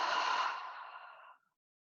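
A single long, airy exhale through the mouth during yoga, close and soft, fading out after about a second and a half into silence.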